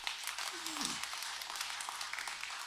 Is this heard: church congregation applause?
yes